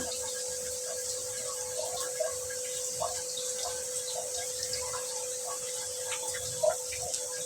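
Hands rubbed and rinsed under a running tap while cooking chicken: a steady, fairly quiet stream of water with soft splashes and a few small knocks, and no one speaking.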